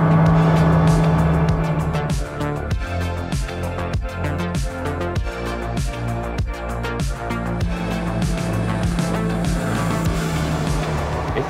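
SUPERRIB Open 27 rib boat running at high speed, about 50 knots at 5,700 RPM, its outboard engine roaring loudly and steadily with a dense, rhythmic drone and wind and water rush throughout.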